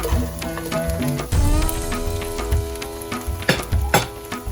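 Shredded chicken toasts in a pan over high flame with a close, steady sizzle and stirring scrapes, a few sharp clacks near the end, and soft background music.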